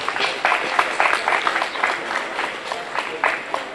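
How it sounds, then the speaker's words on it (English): An audience applauds at an engineers' induction ceremony of the Ghana Institution of Engineers: a steady patter of many hands clapping, with brighter bursts of claps rising out of it at an even pace. "Yes, they deserve an applause."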